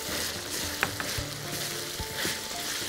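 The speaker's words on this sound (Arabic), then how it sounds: "بس كده نحس ان الفراخ ابتدت تتحمر" Chicken pieces fry and brown in a little oil, a close, steady sizzle broken by a few stirring scrapes and light knocks of a utensil against the pan.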